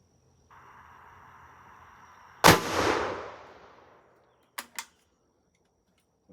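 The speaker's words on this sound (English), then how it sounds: "Hornady A-Max 175 grain, shot number 3." A .300 Blackout rifle fires a Hornady A-Max 175 grain bullet into a ballistic gel block outdoors: one sharp loud crack with a short decaying tail, then two quick faint clicks, preceded by a low steady hum.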